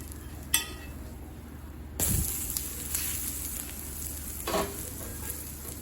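A tomato dosa sizzles steadily on a hot pan, a continuous close frying hiss with a sharp metallic clink and a louder burst of spattering as it is turned, then quieter scraping.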